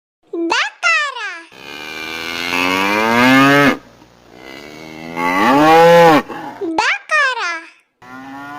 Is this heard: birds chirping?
no